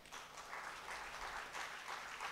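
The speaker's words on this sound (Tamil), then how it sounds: "அங்கே ஒரு குழந்தை கைத்தட்டுறா" Scattered applause from an audience at a seminar event, a steady soft patter of several hands clapping, fairly distant and even throughout, with no voices on top.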